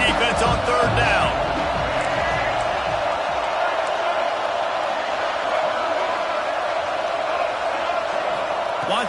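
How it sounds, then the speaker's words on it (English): Loud stadium crowd roaring steadily at a college football game, Auburn against Arizona State, as fans rally behind the defense on third down; dense sustained noise throughout with some whoops and a commentator's voice underneath. "Decibels rising as the crowd gets behind this defense on third down."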